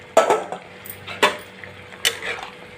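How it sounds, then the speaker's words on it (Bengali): Fried potato-and-egg fritters dropped into a pot of boiling curry, a few distinct clunks and splashes of utensil against the pan, close and moderately loud with a faint background hum. "আমি এবার ভেজে রাখা বড়াগুলো দিয়ে দিলাম।"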